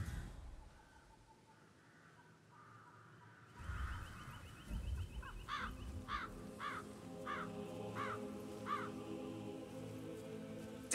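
In the Hitman 3 video game on the Dartmoor level, crows caw in a repeated series of harsh calls after a loud shift in the scene, with distant ambience throughout.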